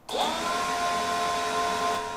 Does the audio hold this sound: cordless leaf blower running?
yes